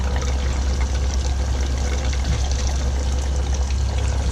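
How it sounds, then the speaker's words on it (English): Hot water pours steadily from a water heater line during a water heater change-out, a continuous rushing stream under a low hum, close and fairly loud with no pauses. "He's shooting hot water down."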